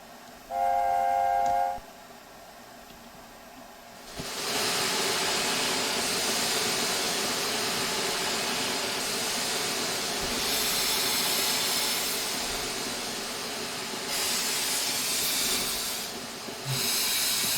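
An LNER A4 Pacific steam locomotive in Train Simulator Classic with the SSS sound pack. A short whistle blast comes first, then loud, sustained steam hissing and rolling rail noise.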